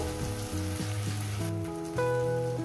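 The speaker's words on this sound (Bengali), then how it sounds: "এবার আমি মশলাটাকে সুন্দর করে কষিয়ে নেব।" Onion and spice paste sizzles steadily in a pan while frying for a fish-head and potato curry, a soft continuous crackle heard under some tonal background sound, with no talk.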